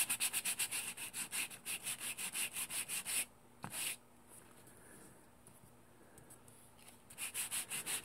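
Sandpaper on a flat hand sanding tool rasps in quick, even back-and-forth strokes, close and fairly quiet. A run of about a dozen strokes stops, a near-silent pause follows, and the rhythmic sanding resumes.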